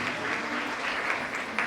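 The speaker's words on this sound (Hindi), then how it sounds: "इसके लिए तालियां बजती है।" Audience applause at a college annual function, honouring a student's bronze medal, a short, dense run of steady clapping at even volume with no voices over it.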